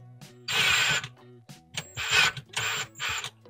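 A drill with an extension bit drives a screw into a pre-drilled hole while a pull-out kitchen cabinet organizer is installed, giving four short, close, whirring bursts separated by brief pauses.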